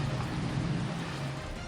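Heavy rain pouring over part of Metro Manila on an evening thunderstorm, a steady dense hiss with a low rumble beneath, continuous and fairly loud throughout the short stretch.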